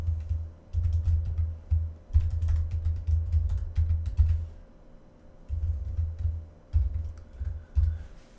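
Bursts of rapid typing on a computer keyboard, close and clear, in several runs separated by short pauses, with a faint steady hum underneath and no talking.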